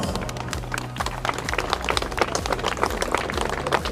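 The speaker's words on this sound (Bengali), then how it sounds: "আরেকবার সবাই মিলে একটু জোরে হাততালি হবে ক্রিমসন ব্র্যান্ডের জন্য।" A crowd claps and cheers at the grand opening and ribbon cutting of Crimson Grand, a dense, busy patter of hands with a low musical hum underneath.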